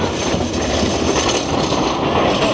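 A Blackpool tram passes close by on the street with a loud, continuous rumbling roar of wheels and motor, steady for the whole stretch with no voices.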